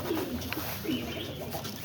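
Domestic pigeons in a nesting area with hatched young coo in soft, low, repeated phrases, close and moderately quiet over a steady background hum.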